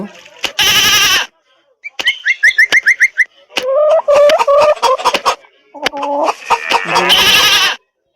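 Repeated bleats in a cartoonish game style, several short rhythmic calls in bursts alongside other chirpy game noises, loud and close.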